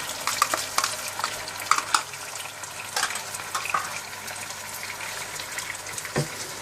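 Chicken with yogurt and ginger garlic paste being stirred and mixed in a pan for biryani, irregular wet scraping and squelching strokes up close with a faint sizzle underneath.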